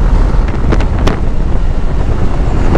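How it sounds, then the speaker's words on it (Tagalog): Strong wind buffets the microphone with a constant loud, low rumble and roar, gusting throughout with no talking. "Ayun nga, sobrang lakas ng hangin."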